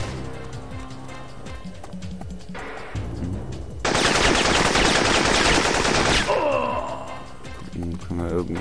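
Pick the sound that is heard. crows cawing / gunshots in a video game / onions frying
gunshots in a video game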